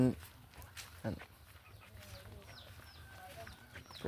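Chickens cluck intermittently at moderate distance on a rural homestead, while people talk over them.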